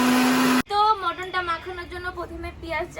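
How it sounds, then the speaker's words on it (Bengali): A loud, close mixer grinder grinding spices whirs for about half a second and cuts off abruptly, then a person starts talking. "এই যে বদ্দি মশলা করে নিচ্ছে মিক্সারে"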